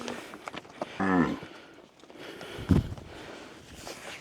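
Cows on a dairy farm in rural Bonao, Dominican Republic, let out two close, loud, drawn-out moos a moment apart, with faint footsteps and rustling around them.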